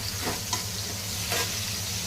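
Turmeric and asafoetida are stirred into hot oil for a tempering, giving a steady soft sizzle with faint scraping stir strokes, close and quiet, with no talking.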